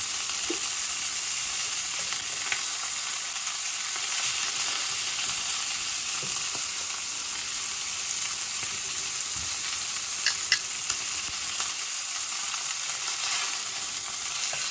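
Pork tenderloin searing in a hot pan in a home kitchen, a steady loud sizzle and crackle running throughout with a few brief pops and no talking.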